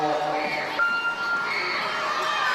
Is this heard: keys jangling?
no